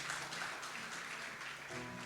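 A church congregation applauds in a soft, steady wash of clapping, heard from some distance, with a little music swelling near the end.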